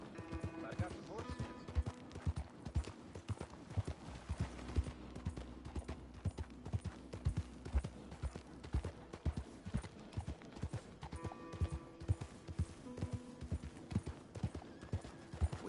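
Horse hooves clip-clop in a steady walking rhythm in the video game Red Dead Redemption 2, sitting close and clear under intermittent talk and a background musical score.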